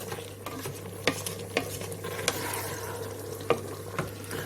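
Lamb curry bubbling and sizzling gently in an uncovered pot, with a steady low simmer and a few clicks of a spoon stirring against the pot.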